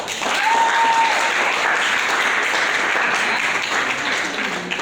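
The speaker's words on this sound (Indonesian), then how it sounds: "Kita tepuk tangan untuk kelompok 2 dulu" A classroom of students applauds a presentation group in a lesson on plant tissue, a steady, dense burst of clapping lasting throughout, with a faint tone briefly audible early on.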